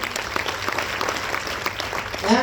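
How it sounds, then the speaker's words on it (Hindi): Audience applause breaks out in a hall, a steady wash of many hands clapping for a moment of honor, with a voice faintly audible near the end. "उनके लिए एक बार जोरदार ताली होना चाहिए"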